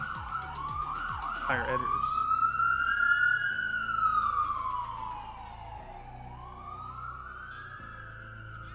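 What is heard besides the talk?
emergency vehicle sirens passing by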